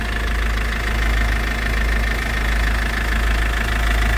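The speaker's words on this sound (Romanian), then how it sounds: "Ca motor merge foarte bine" A 2.3-litre, 116-horsepower car engine idles steadily and close by, with a constant low rumble and even mechanical hum throughout and no voices.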